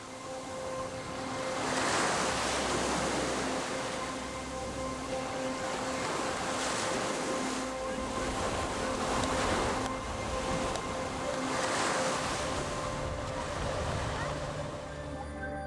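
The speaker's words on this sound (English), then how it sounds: "the ocean's currents can be violent, and the wind stirs the water's surface." Ocean waves surge against huge rocks along the Ibiza coast as wind stirs the surface, with a steady roar that swells in slow recurring pushes about every few seconds and no clear voices over it.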